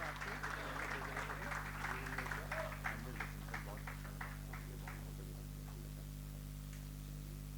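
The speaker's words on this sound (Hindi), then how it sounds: "नायक दीपचंद जी साहब के लिए जोरदार तालियां" A crowd claps for Naik Deepchand at a tribute ceremony, a burst of applause that thins out and fades over a steady electrical hum.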